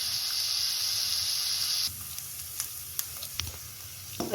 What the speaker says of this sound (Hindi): ऑयल के अंदर हम करेंगे। इस तरह फ्राई करेंगे।